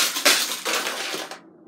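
Diecast toy race cars, including a Chevrolet Camaro, smash together on a track in a loud crunching, clattering crash, with rattling impacts over about a second and a half before it cuts off.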